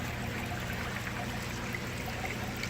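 Water from a pressurised pipe pours steadily into an aquaponics flood and drain grow bed, a continuous close trickling stream with even loudness throughout and no talking.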